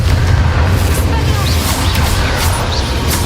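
Loud booming bursts from a Confringo blasting curse in Hogwarts Legacy, dense and continuous with several sharp pops layered over a constant low rumble.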